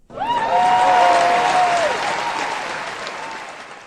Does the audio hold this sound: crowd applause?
yes